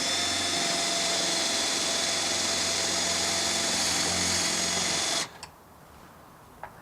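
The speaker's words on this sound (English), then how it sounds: "pre-drill your top hole" A power drill pre-drills the top mounting hole for a manual chain shade's 4-inch housing, giving a steady, loud whirring hum for about five seconds before cutting off abruptly into near silence.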